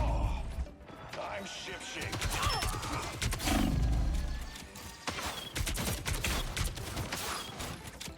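Dense bursts of booming blasts and rapid crackling gunfire-like bangs pile up continuously in Marvel Rivals, loud and chaotic, with mechanical clatter mixed in.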